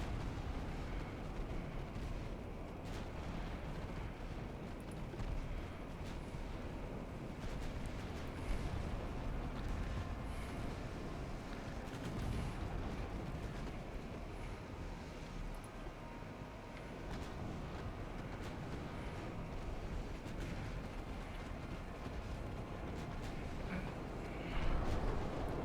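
Distant naval gunfire in Ultimate Admiral Dreadnoughts as ships fire on clusters of enemy vessels, a faint, continuous rumble of guns and booms under steady ambient noise, with a slightly louder thump near the end.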